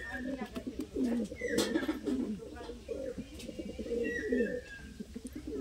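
Madras flying pigeons coo in soft repeated throaty phrases close by, under someone talking in the background.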